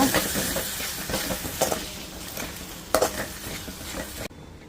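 Tomato rice stirred in a pan with a spoon, close scraping and scooping strokes over a soft sizzle, with a few sharper clinks against the metal before a sudden stop.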